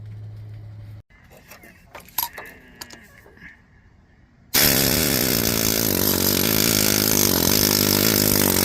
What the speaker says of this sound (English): This is great to do with the needle scaler.